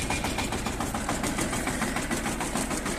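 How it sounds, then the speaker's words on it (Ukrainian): A Shifeng tractor engine runs steadily under load while plowing heavy clay in fourth gear, a dense, even rumble with clattering mechanical knock throughout, close and continuous. "Трактор нагрузки не відчуває, орем четвертою."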